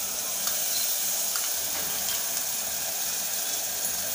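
Onion and coconut paste sizzles and fries in a hot pan over low heat, a steady continuous hiss with faint stirring scrapes throughout, close and alone with no talking.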